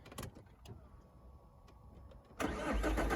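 A 2006 Saab 9-3 1.9 TiD diesel is started up: a quiet cranking hum, then the engine catches with a sudden loud burst and settles into a rough, rattly diesel idle nearby.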